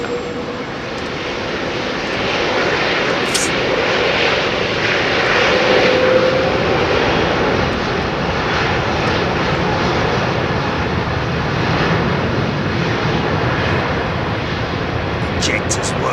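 Airliner jet engines roar continuously at a windy London Heathrow, a loud, sustained near rumble swelling slightly and holding across the whole stretch.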